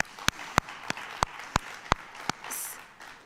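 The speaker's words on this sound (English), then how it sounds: "So please join me in giving them a round of applause for all of their hard work" Scattered, evenly spaced claps ring out at a business awards event, about eight sharp hand claps in a steady rhythm over a quiet room, with a brief hiss near the end.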